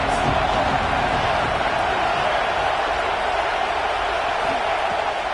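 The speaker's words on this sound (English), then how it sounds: "This crowd trying to make life miserable for this offense." Crowd noise at a football stadium forms a steady, dense roar that holds even and fairly loud throughout, with no clear peaks of cheering.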